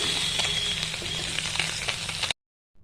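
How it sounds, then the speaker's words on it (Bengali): Bata fish frying in oil in a wok for a spicy fish curry, giving a dense, continuous crackling sizzle with scattered pops, heard close up before cutting off abruptly. "সবার প্রথমেই আমি মাছগুলোকে একটু লালচে করে ভেজে নেব"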